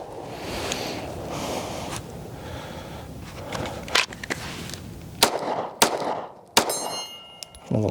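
Ruger RXM pistol fired at a range: several sharp, loud shots with metallic ringing come in quick succession in the second half, over steady background noise.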